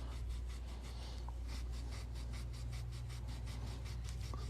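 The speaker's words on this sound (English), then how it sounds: "the first thing I do is rub on it with steel wool" Steel wool rubbed over a clad coin, a quarter or half dollar being made into a ring, in a fast steady scrubbing rhythm of close, harsh strokes with a low hum beneath.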